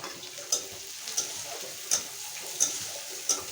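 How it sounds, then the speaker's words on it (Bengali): Shrimp with onion and green chili frying in a pan, a steady close sizzle broken by five evenly spaced scraping ticks of a spatula stirring, with no voices. "এখন এটা ভালো করে ভেজে নেব।"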